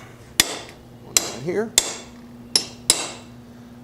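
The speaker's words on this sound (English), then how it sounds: "And center punch it." A hammer strikes a center punch into metal in five sharp, ringing, close blows spaced about a second apart, with a low hum in the shop and someone speaking briefly between strikes.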